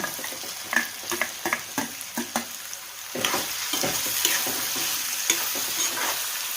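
Chopped onions and potato go into a hot pan for kadhi pohe, with scraping stirring taps at first and then a steady close sizzle of frying as the stirring continues.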